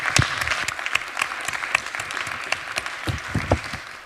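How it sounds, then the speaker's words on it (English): A room full of people claps steadily, a dense patter of hands with no voices, close and sustained throughout. "please ask everybody to give a warm round of applause to our speakers"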